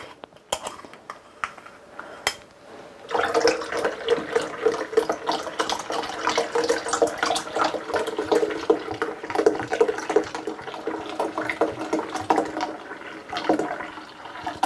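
Water pours from a tap into a bottle being filled to the 32-ounce mark in a kitchen, a steady splashing stream that starts after a few seconds of handling clicks and runs on, close and fairly loud.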